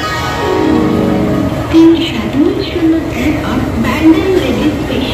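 The Howrah–Amritsar Mail rolls into a station platform with a low rumble and clanking under a bustling crowd, while a person talks nearby.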